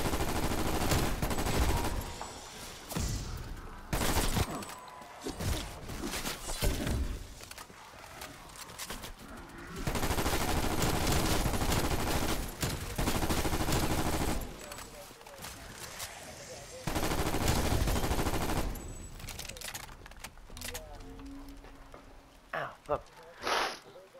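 Shooter video game gunfire, repeated bursts of rapid shots coming and going across a busy, noisy mix, with players talking over the action.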